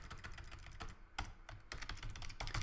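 Quick, uneven bursts of keystrokes on a computer keyboard as code is typed, close and clear with brief pauses between runs of clicks.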